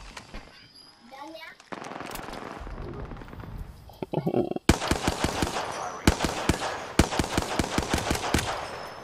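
Rapid bursts of gunfire from Apex Legends, loud and close, in several sharp rhythmic volleys after a stretch of game effects and talk, with a voice speaking over parts of it.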